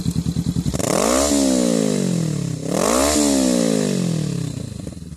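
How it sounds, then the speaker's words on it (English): A Honda Rebel 500 twin-cylinder motorcycle engine with twin exhaust revs up twice in strong, rising surges, idling with a rough lumpy throb in between, loud and close. "Let me just give it a bit more revs."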